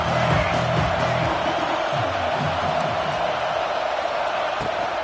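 A stadium crowd roars steadily in a Florida Gators college football video game, a loud unbroken wash of cheering with a voice faintly underneath.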